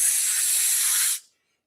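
A voice imitates the sharp, hissing discharge of a can of bear spray caught on a branch in brushy Pacific Northwest woods: one loud, steady hiss lasting just over a second, then cut off abruptly into silence.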